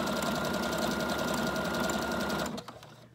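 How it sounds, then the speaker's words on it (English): A sewing machine runs a zigzag stitch through a junk journal, a steady fast mechanical chatter at close range that stops abruptly near the end, leaving a faint hum. "I'm doing a zigzag stitch, the back stitch at the beginning"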